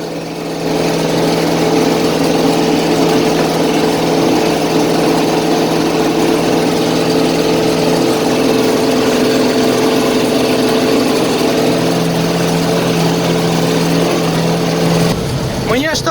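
A GAZ-66 truck engine held at about 2500 rpm, with a loud, steady rough drone and a rapid underlying knock throughout, running close by until it drops off at the end.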